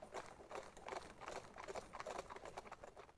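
Steady clip-clop of horse hooves pulling a carriage, a brisk continuous rhythm of many overlapping hoofbeats at moderate volume with no talking.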